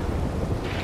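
Thunderstorm in the video game Red Dead Redemption, a brief dense wash of rain and low rumble that holds steady and close for under a second, with no voices.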